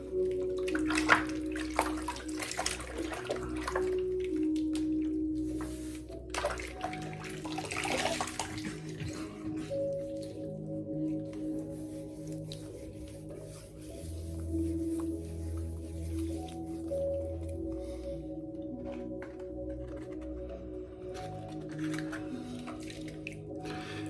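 Water runs and splashes steadily while a shaving brush is rinsed and left soaking before a straight razor shave, with drips and sloshing throughout and no talk.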